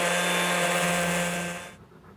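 A sander fitted with coarse sandpaper grinds steadily against a plastic wheelbarrow during a crack repair, a loud continuous abrasive whir that cuts off abruptly near the end.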